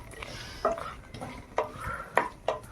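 Cashews being stirred as they roast in hot ghee in a pan, with four distinct metallic spatula knocks and scrapes spaced about half a second apart over a quiet low hum.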